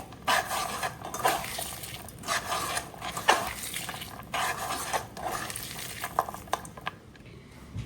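Garlic, onion and green chilli frying in a new wok, with a steady sizzle under repeated scraping and stirring clatter of a utensil against the pan, close and fairly loud throughout.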